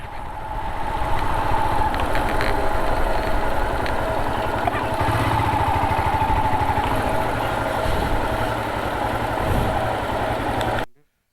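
A motorcycle engine idles steadily and close by at a temple parking spot on a road trip from Mumbai to Srisailam, a constant low rumble that cuts off abruptly at the end.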